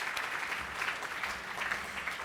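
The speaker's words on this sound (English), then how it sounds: "that's worth applause" A dinner audience at a think-tank's annual banquet gives a short, even burst of applause, heard faintly and at a distance as a soft, continuous patter.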